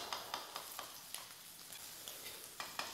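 Sliced mushrooms stir-fry in a super hot wok: a faint, soft sizzle with quick, regular scraping and tossing ticks from the stirring, heard close and without speech.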